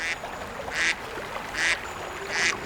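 Wild ducks in Mongolia give four evenly spaced quacks, moderately loud, over a hissy outdoor background with no talking.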